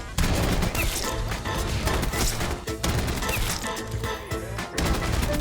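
Rapid automatic gunfire in the video game Black Ops 6, with loud, dense bursts of shots and impact cracks coming one after another almost without pause, close and punchy.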